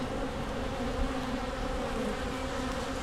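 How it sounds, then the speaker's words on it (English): A continuous swarm-like drone of honey bees surrounds hive three, loud and near, a thick unbroken buzzing hum with no voices over it. "The bees."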